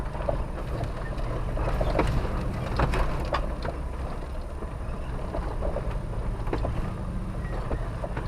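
A black Jeep Wrangler JK with a 6-liter V8 engine runs with a steady low drone, heard from inside the vehicle with occasional knocks and rattles and no talking.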